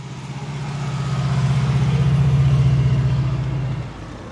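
A Saab 96 with a V4 engine drives past close by, its low, even engine drone swelling and then easing off over a few seconds.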